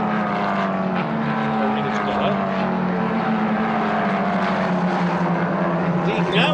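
Racing cars on the Motorland circuit, several identical orange cars heading into turn 1, their engines a loud sustained roar with shifting pitch as they run close together. A commentator talks over them.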